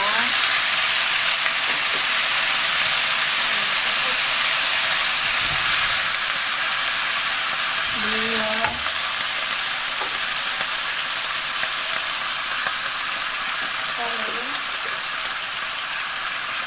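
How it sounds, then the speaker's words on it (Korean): Soy sauce poured into stir-fried green pumpkin in a hot pan, giving a loud, steady sizzle that runs the whole way with brief stirring clinks and faint voice fragments. "자, 어느 정도 반이 익었을 때 간장 넣습니다."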